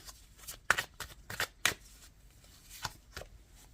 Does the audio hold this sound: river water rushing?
no